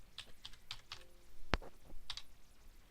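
Several separate keystrokes on a computer keyboard as a card payment amount is entered at a point-of-sale till, irregular and close, with one louder sharp click near the middle and no voices.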